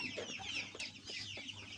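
Chickens cluck in short repeated bursts, close by, over a faint steady background hum.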